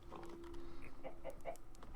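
Chickens cluck softly in Minecraft Bedrock, a few short, faint clucks scattered over a quiet background with a faint steady tone.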